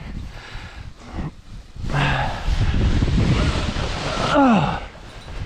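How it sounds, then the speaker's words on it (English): Strong gusting wind roars across the microphone while kiteboarding with a 27-meter BDG Wasp kite, a loud continuous buffeting rush with a person's brief exclamations over it. "It's a little windy for this today."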